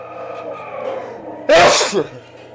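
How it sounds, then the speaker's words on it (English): A single loud, sharp sneeze bursts out after a moment of quiet breathing and faint background sound. "I have to sneeze"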